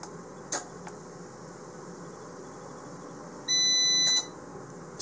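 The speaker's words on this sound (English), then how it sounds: "So I just got a power alarm now, since I turned off a power source." A homelab power supply alarm, triggered by a lost power source, sounds a steady electronic tone for under a second, sharp and fairly loud, over a quiet background hum with a few faint clicks.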